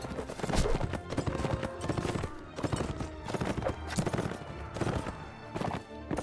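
Hooves clatter in a rapid galloping rhythm in the video game Mount & Blade, several horses pounding along together, loud and close with no voices.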